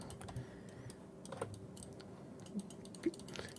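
Faint, close computer mouse clicks, scattered at irregular intervals over a steady low hum, with a few sharper taps standing out toward the end.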